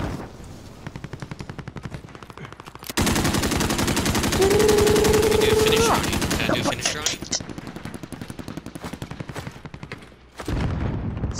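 Rapid automatic gunfire from a Modern Warfare multiplayer match, sustained loud bursts near the listener with a dense fusillade in the middle stretch, a tonal whine rising over it, and some speech mixed underneath.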